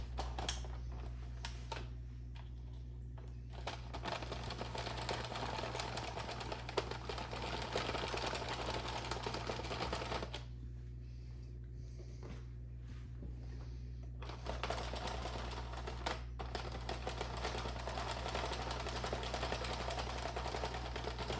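A Sentro plastic knitting machine is cranked by hand, producing a continuous close rapid rattling and clicking of plastic needles, steady throughout with a constant low hum underneath.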